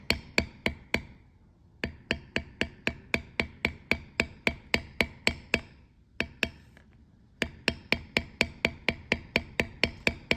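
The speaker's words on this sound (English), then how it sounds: "So let me bevel this line here as well." A metal beveler tool struck steadily with a mallet on cased leather, giving a crisp rapid series of sharp taps in runs with brief pauses, close and loud.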